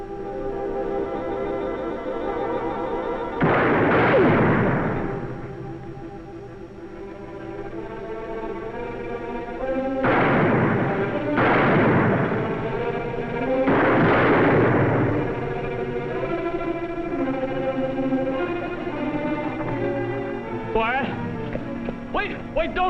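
Gunshots in a TV western gunfight at the O.K. Corral: several loud, reverberant reports spaced over a dramatic music score.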